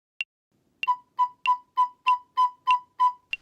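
Recorder playing a steady run of eighth notes, about nine short clean tones at an even moderate pulse, close and clear with no voices.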